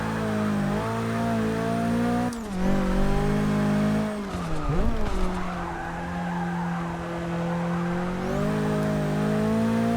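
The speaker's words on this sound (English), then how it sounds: "This one I have to slow down all the way into second because of the way I have to take this corner." In Forza Motorsport 6, a race car brakes and downshifts hard into a corner with sharp throttle blips and squealing tyres, then pulls away at a steady engine drone. The sound is loud and close, with no talking.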